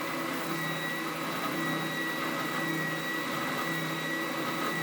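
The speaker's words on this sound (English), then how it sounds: "Onto the orbital sander." An orbital sander runs steadily on a wooden guitar template, a constant close whirring hiss with no breaks and no voices.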